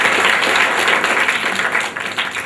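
Loud audience applause at a youth quiz contest, many hands clapping in a dense continuous burst that thins slightly toward the end.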